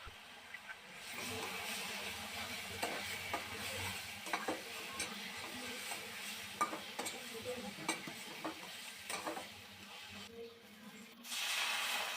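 Salt, turmeric, chilli powder and Kashmiri red chilli powder fry with ginger paste for a spicy duck egg curry, a soft steady sizzle and hiss under repeated scraping stirs, with no talking.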